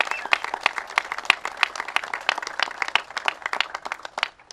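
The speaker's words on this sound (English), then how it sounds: "Let's give him a round of applause." A small crowd at a flood-resiliency announcement gives the county executive a round of applause, fairly quiet individual claps forming an uneven patter that lasts several seconds.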